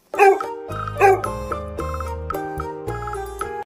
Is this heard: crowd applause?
no